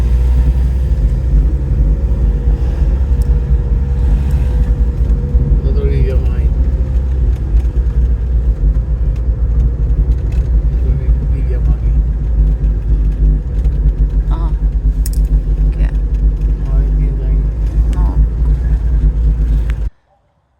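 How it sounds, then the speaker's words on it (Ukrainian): A Toyota or Land Rover off-roader climbs a mountain road, its engine pulling with a loud, steady low rumble that fills the whole clip before cutting off at the end. "прямо дивуюсь, як тягне ця машина"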